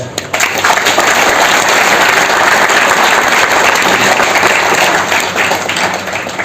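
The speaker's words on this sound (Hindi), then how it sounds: "तालियां बजा दो" A large audience claps loudly and steadily, a dense wall of applause that holds for several seconds before easing slightly.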